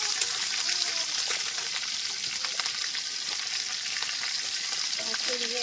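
Green chilies sizzle in hot oil with whole spices while cooking an egg and potato curry, a steady close crackle and hiss with light stirring throughout and no talk.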